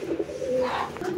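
A male Lakkha pigeon on a pigeon farm gives one close, drawn-out throaty coo, heard alone and clearly.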